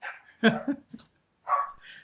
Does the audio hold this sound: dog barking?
yes